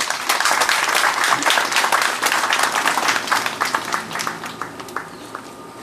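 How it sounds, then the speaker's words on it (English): An audience at a handover ceremony applauds, dense clapping that stays loud for several seconds and then thins into scattered claps as it fades out. "let's give him another round of applause, please."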